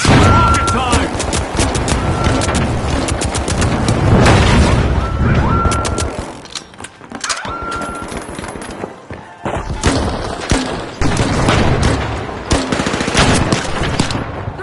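Rapid automatic gunfire and heavy rocket explosions in the video game The Finals, during a game show event. The bursts are loud and dense, with a brief lull partway through before more blasts and shots.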